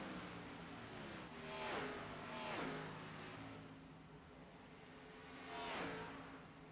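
NASCAR Xfinity Series race cars in a sim race at Las Vegas pull away from pit road, engines revving and rising in pitch in several sweeping passes, loud and steady with no voices.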